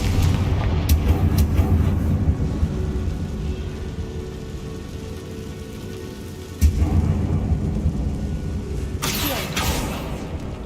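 A Confringo fire spell explodes in Hogwarts Legacy: one sharp, booming blast lands midway and stands out from a steady rumbling, rain-like background.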